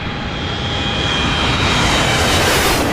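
An airplane takes off at a LEGO toy airport, a steady, loud, broad jet-engine roar with a faint high whine, sustained and unchanging throughout with no talk.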